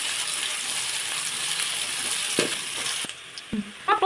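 Chopped onions frying in a pan toward golden for a chicken curry, a bright steady sizzle that drops away near the end into a few clinks and stirring knocks, close up, no talking.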